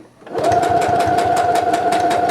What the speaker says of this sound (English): start to sew and stop before it gets to the end.